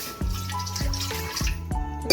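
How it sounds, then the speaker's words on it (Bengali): Water pours steadily into a pot on a stove, a continuous close splash with a few brief clinks and knocks, no voices, while making fish cutlets. "তো আমি ওভেনে হাঁড়িটা বসিয়ে দিলাম এর মধ্যে একটু পানি দিয়ে দিলাম"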